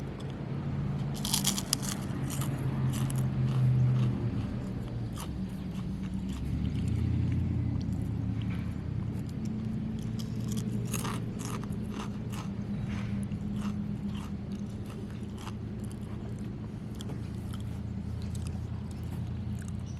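Close-up crunching and chewing of Lay's Wavy Cuban Sandwich potato chips, with steady mouth noise and scattered crisp cracks over a low background hum, with no speech.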